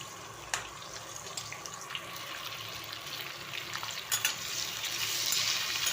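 Masala and drumsticks roast and stir in a pan for a shevgyachya shenga bhaji, giving a steady soft sizzle with scraping stirs and a few sharper clinks, no talk.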